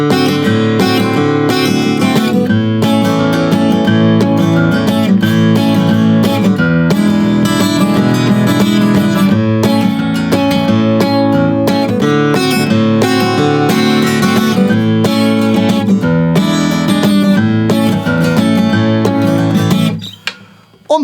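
Strummed acoustic guitar chords in a steady rhythm, playing the chorus of a song, loud and continuous with dense repeated strokes, alone without voices, stopping abruptly near the end.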